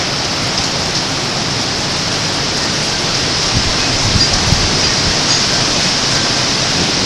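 Hurricane Katrina lashes a saturated backyard with heavy rain and wind, producing a steady, loud broadband hiss of pouring rain that swells slightly partway through under the gusts.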